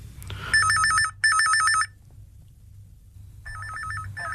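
A telephone rings with an electronic trilling ring in two close bursts, a pause, then a third burst, loud and near over a faint low background hum.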